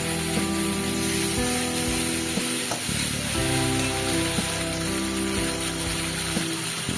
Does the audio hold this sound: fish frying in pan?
yes